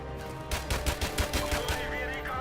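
G3 rifle firing in Modern Warfare Remastered, a quick string of sharp, closely spaced shots that crack out loudly over a short burst before trailing into a faint ringing tail.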